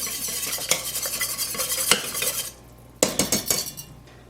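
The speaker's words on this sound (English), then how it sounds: "Give it a little whisk." Onion and mustard powder are whisked into a beer cheese mixture, a brisk close run of metal whisk scraping and clicking against the pan, a short pause, then another burst of whisking.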